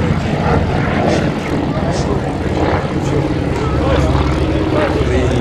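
A Junkers Ju 52, the three-engine propeller airliner of the early 1930s, takes off at the Flying Legends air show at Duxford in 2013, making a loud, steady engine drone throughout while a voice talks over it.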